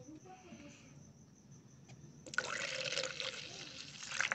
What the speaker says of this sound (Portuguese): Vou pôr um pouquinho de água aqui dentro.